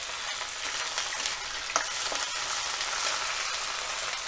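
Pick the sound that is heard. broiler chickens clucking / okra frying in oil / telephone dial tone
okra frying in oil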